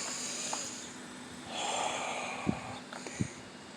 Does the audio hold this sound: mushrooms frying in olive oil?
no